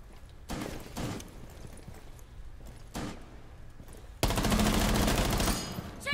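Video game gunfire in short bursts: a few separate volleys early on, then a loud sustained rattle of rapid shots near the end, close and sharp.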